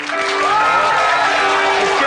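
A studio audience at a comedy show applauds and cheers to register a vote on a clapometer; sustained, loud clapping and whoops fill the whole stretch, with a voice partly audible over it.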